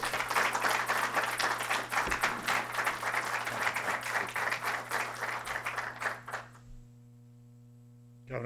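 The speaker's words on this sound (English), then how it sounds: "please give a round of applause to our budget director" Audience applause at a state budget unveiling in an emergency operations center, a room of hands clapping steadily for several seconds before tapering off into quiet, with a low constant hum underneath.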